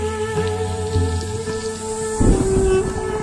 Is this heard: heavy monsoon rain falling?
yes